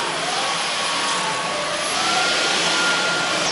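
A Dyson V15 Submarine cordless vacuum with its brush head roars loudly and close, its whirring motor steady at first before swelling as it speeds up.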